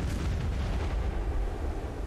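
Ship cannons firing from a Carrack in the video game Black Desert Online: a heavy, rumbling boom that swells and slowly fades, loud and continuous across the moment.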